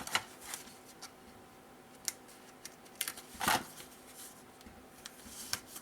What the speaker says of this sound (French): je vais enlever le papier ici